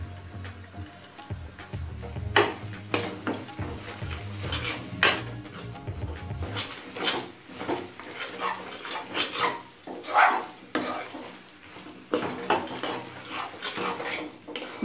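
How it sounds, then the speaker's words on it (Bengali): Spoon scraping and clattering in a pan as ground roasted spices are stirred into a vegetable chop filling with nuts: irregular metallic knocks and scrapes, fairly close, without speech. "ভাজা মশলাটা ভালোভাবে মিশিয়ে নিয়েছি।"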